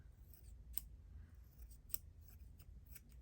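Scissors snip through a piece of fabric during stitchery preparation, three or four quiet, crisp cuts spaced about a second apart, close and alone in a hushed room.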